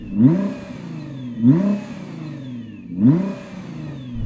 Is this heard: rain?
no